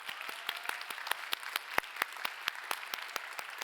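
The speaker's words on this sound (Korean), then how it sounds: "박수로 하겠습니다." A church congregation at a Sunday youth worship service applauds together, a steady patter of many hands clapping at moderate distance for several seconds, with no voices over it.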